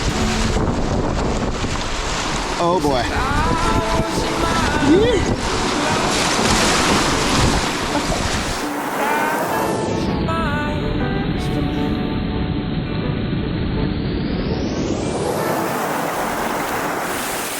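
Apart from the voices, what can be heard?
strong wind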